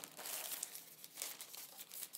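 Thin plastic bag around a Keychron K2 keyboard crinkles and rustles in soft, irregular bursts while the keyboard is pulled out, close and quiet with no talk.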